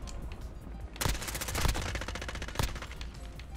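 Rapid gunfire in the shooter Call of Duty: Modern Warfare, Search and Destroy mode: dense automatic bursts with a few loud sharp shots standing out, close and continuous, no talk.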